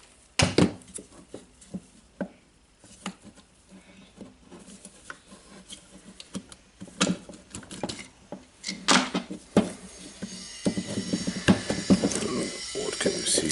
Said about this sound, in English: now I will unscrew the 4 screws here to check the motor and the brush holder